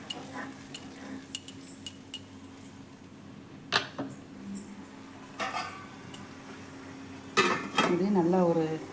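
Lid set onto a cooking pot of rava upma, with a series of clinks and metallic taps of cookware and utensils, ending in a louder clatter as someone talks nearby.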